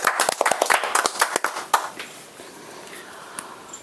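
A congregation at a Sunday prayer meeting claps in praise, a burst of sharp, irregular hand claps that thins out after about two seconds, leaving scattered faint taps and a quiet room.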